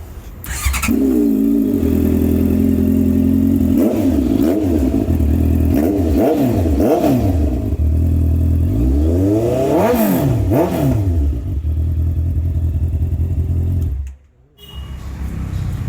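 A Honda CBR inline-four sport motorcycle engine idles loudly close by, then revs repeatedly in sharp rising and falling bursts before settling and dipping near the end.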